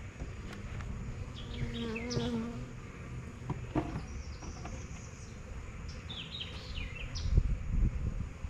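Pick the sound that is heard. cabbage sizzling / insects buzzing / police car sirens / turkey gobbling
insects buzzing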